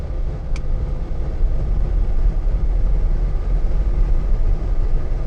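A 2019 Mercedes-Benz Metris passenger van, an ex-courtesy vehicle on a test drive, gives a steady low road and engine drone from inside the cabin, even and continuous with no voices.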